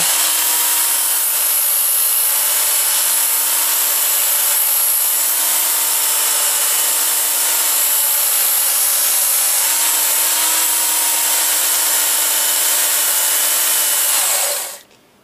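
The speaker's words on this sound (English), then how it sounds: "I just take my sander here" A power sander grinds the sharp edges off a bolt with a steady, loud, high whine that holds for about fourteen seconds, then cuts off abruptly at the end.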